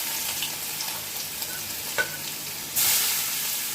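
Nigella seeds and crushed garlic sizzle in hot oil in a pan, a steady crackling hiss with a few small pops, then a louder surge of sizzling near the end.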